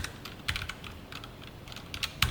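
Code being typed on a computer keyboard, quick irregular key clicks in short bursts with a few louder strikes, close and moderately quiet with no voices.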